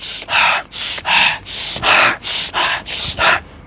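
Heavy, rhythmic breathing up close: about eight forceful, evenly spaced breaths, loud and alone with no other sound.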